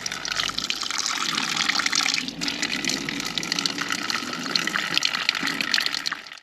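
A public drinking fountain in an Andalucian town sends out a steady, close, fairly loud gush of running water that splashes continuously throughout, with no talking.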